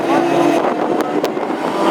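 A hot rod race car, the race leader, passes at Northampton during a classic hot rod heat, its engine a loud steady roar close by under the hum of the crowd and circuit.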